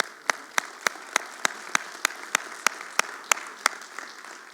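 A church congregation claps in unison, giving a steady rhythmic beat of about a dozen sharp, evenly spaced claps over a quiet room, with no talking.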